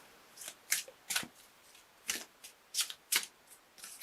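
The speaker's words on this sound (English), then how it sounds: "I'm going to pull an Archangel Michael card for you for a little bit more information." Archangel Michael oracle cards are shuffled and drawn in a series of crisp riffling flutters and snaps, about a dozen short bursts at an irregular pace, close and clear with no talking.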